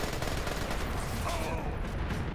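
Dense gunfire from the Splinter Cell Conviction video game, fired at close range in Diwaniya, Iraq, comes as a rapid, loud crackling burst that fills the whole moment with no pause.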